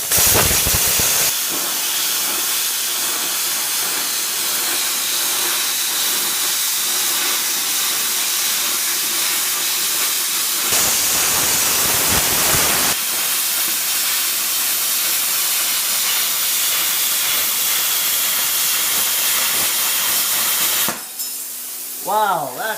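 A small $300 plasma cutting unit slices through stainless steel, giving a loud, steady hiss that runs almost unbroken for about twenty seconds with one brief change in tone partway, and a voice enters near the end.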